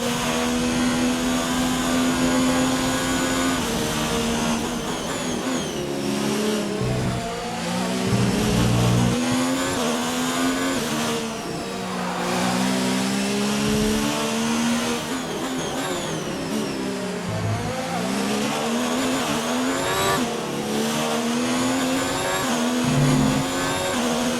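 An Alfa Romeo Formula 1 engine in the F1 2019 racing game at the Australian GP screams loudly and continuously, pitch climbing through the gears with brief dips on downshifts and a steady, close onboard roar throughout.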